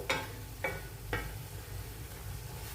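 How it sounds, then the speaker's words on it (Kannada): Onions frying in ghee for a veg kurma, with three sharp stirring scrapes in the first second over a steady close sizzle that continues alone. "ಅದು ಚೆನ್ನಾಗಿ ಫ್ರೈ ಆಗಬೇಕು ಈರುಳ್ಳಿ. ಅಲ್ಲಿವರೆಗೂ ಇದನ್ನು ನಾವು ಫ್ರೈ ಮಾಡ್ಕೊಳ್ತಾ ಇರಬೇಕು."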